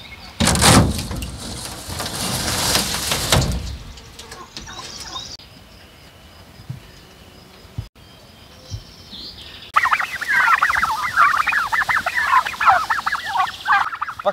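Farm poultry call loudly in a rural yard, one bird letting out a harsh, agitated burst of gobbling, honking cries that later rises into a long stretch of rapid, excited calling, close by and with no talk.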